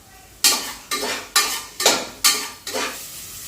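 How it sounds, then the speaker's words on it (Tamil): Garlic and onion sauté in a pan for a home-style Tamil dal rice, five bursts of loud sizzling as the pieces are stirred and tossed, each swell fading before the next, close by with no voices. "அதுக்கப்புறம் நம்ம பூண்டை போட்டு அப்புறம் பொன்னிறமாக வர வரையும் வதக்கிக்கணும்"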